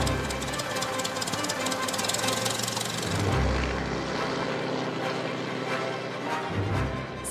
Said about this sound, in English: today this is the last original SE-5A still flying